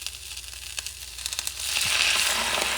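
Vinegar splashes into a pan of red onions softening over heat, and the quiet cooking noise jumps into a loud, steady, hissing sizzle that holds to the end.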